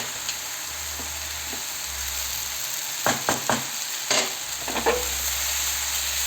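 Sevai being stirred in a pan with a meal maker and tomato mix, a steady sizzle running throughout with several scraping, clattering stirring strokes near the middle and end.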